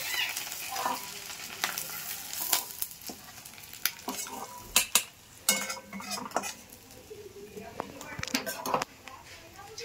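Prawns frying in oil in a pan, a soft steady sizzle broken by utensil scrapes and clinks as they are turned and lifted out, close and moderately quiet.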